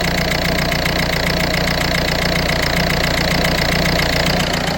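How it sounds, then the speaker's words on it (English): A Ford Fiesta engine idling with a chuffing injector gives a steady, loud, close mechanical drone with a fast, even rhythmic puffing knock running throughout, and no voices. "definitely got a chuffing injector"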